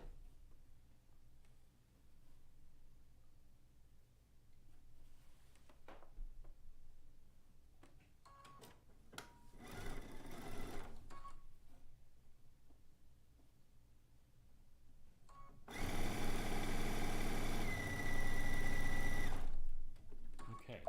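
A sewing machine stitches a seam on a zig zag quilt in a studio, running in short bursts with pauses, then a longer, louder stretch of fast whirring toward the end.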